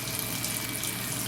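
A washing machine in an off-grid tiny house fills with water, giving a steady, even rush of running water like a tap, constant and close with no talk.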